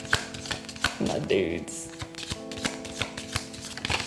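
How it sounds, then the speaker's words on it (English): Tarot cards being shuffled, a stiff deck riffled and slid in brief bursts of papery flicks, close up, with a voice speaking a short phrase partway through. "it's hard to shuffle because they're not love cards"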